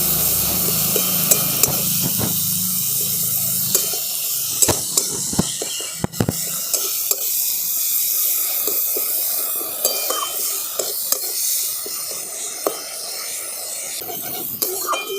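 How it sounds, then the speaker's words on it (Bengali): Ginger, onion and garlic paste fries in hot oil for a fish roe curry, giving a steady hissing sizzle with scattered spoon scrapes and stirring clicks, with no talking. "এগুলোকেও খুব ভালো করে আমি তেলের সঙ্গে কষিয়ে নিচ্ছি"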